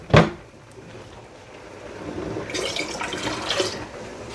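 Cider vinegar and pure white vinegar are poured into a pot for sweet pickled peppers and onions, a steady splashing stream rising midway and running for about a second before easing off.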